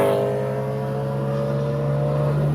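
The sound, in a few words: BMW E92 M3 V8 engine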